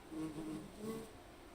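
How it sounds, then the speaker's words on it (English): Gentle buzzing of bees drifts through a quiet station in the train game Train Sim World 2: a steady, soft, low drone with slight swells, alone and without talk. "Just as we hear the gentle buzzing of bees."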